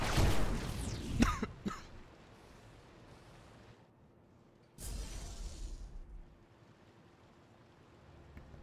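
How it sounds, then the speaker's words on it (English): A burst of harsh coughing and throat clearing up close, then quiet, followed by another breathy rush of sound, during a StarCraft 2 match commentary. "that was a weird coughing fit"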